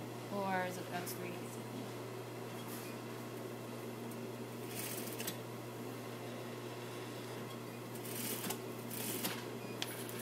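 A sewing machine stitching a straight seam with a 3/8 to 1/2 inch allowance, a steady low mechanical hum running throughout, with people talking faintly in the room over it.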